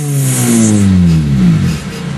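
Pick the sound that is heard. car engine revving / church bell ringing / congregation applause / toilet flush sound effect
car engine revving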